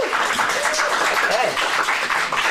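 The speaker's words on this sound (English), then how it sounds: "Give her a round of applause" Audience applause and clapping for a child actor at a kids' dramatic film acting showcase, a steady wash of many hands filling the short moment while a voice talks over it.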